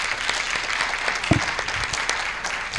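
Audience applause for schoolchildren at a school event, a steady wash of clapping filling the whole stretch at even loudness with no voices over it.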